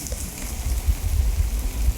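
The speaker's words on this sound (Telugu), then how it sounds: "ఇప్పుడే మళ్ళీ వాన స్టార్ట్ అయింది." Rain starts falling again outdoors, a close, steady patter with low rumbling thumps from drops striking nearby surfaces.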